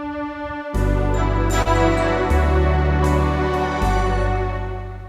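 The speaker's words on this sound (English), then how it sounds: "So the generic setup, if you will, is strings and bells" Home organ rhythm preset sounding a sustained strings-and-bells voicing, with bright bell strikes over held string chords and shifting bass notes, clear and close with no talking.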